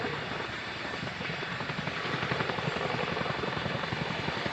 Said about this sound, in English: please put your hands together for the 2024 Chinook roll demonstration.